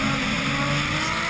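A Nissan Skyline R32 drift car on Falcon Tyres revs hard at a British Drift Championship round at Lydden Hill, a loud, brief, raw engine howl heard at close range.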